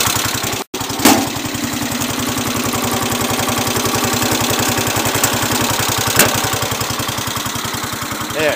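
A Cub Cadet 107 lawn tractor engine, just fitted with a new fuel filter and fuel line, starts cold and settles into a loud, steady, rapid thumping idle close by, with no talking.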